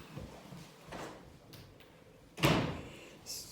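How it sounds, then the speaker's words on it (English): A door is pushed shut indoors with a few soft knocks and rattles, then one sharper thud near the end, all faint in a quiet room. "You need to shut the door."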